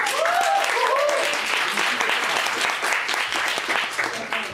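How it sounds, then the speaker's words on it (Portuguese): A crowd bursts into loud, sustained applause for a musician, dense clapping filling the room and slowly tapering toward the end, with a brief voice rising above it near the start. "E agora palmas para o nosso músico"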